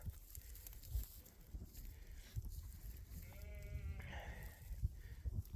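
Sheep bleat once in a short wavering cry midway, over steady outdoor rumble and wind-like noise on a farm pasture near livestock netting.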